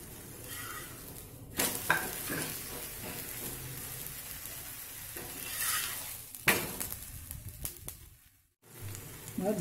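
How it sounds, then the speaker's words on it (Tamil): A wheat capsicum dosa sizzles steadily on a hot pan, close and continuous, with bursts of scraping and a short quiet gap near the end. "தோசையை மெதுவாக திருப்பி போடலாம்."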